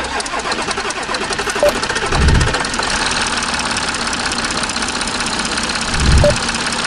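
A 2016 Audi A6 engine cranks and settles into a steady idle, with two brief heavier surges along the way; the sound is loud and close, and nobody speaks.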